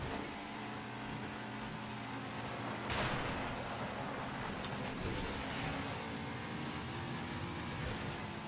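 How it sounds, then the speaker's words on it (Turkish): Rain in the racing game Asphalt 9 makes a continuous broadband hiss with engine and road noise blended in, steady and fairly loud throughout, with a brief surge of splashing around the midpoint and no talking. "Oyunda yağmurlu güzel bir hava var."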